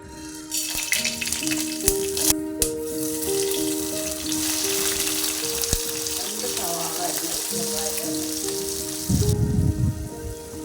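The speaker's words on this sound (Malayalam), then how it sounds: "അരിഞ്ഞു വെച്ചിട്ടുള്ള സവാളയെല്ലാം എണ്ണയിലിട്ട് നന്നായിട്ടൊന്ന് വഴറ്റി വഴറ്റിക്കൊണ്ടിരിക്കുകയാണ്" Chopped onions sautéing in hot oil with cumin, cardamom, cloves and cinnamon for chicken kabsa biryani, a steady sizzle and frying hiss under background music, with a louder burst of sizzling near the end.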